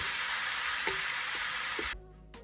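Onions and green chillies fry in a pan with a steady, dense sizzle that carries on alone, punctuated by a few soft stirring knocks before it suddenly drops away near the end.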